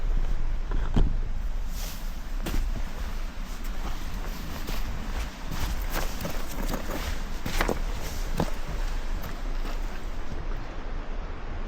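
Footsteps crunching and clacking on loose river rocks at night during heavy rain, irregular steps scattered over a constant hiss of wind and water.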